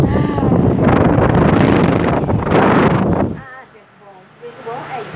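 A strong Arno electric fan running on speed setting 3 roars with loud, steady broadband airflow for about three and a half seconds, then cuts to a quieter background where a voice briefly speaks.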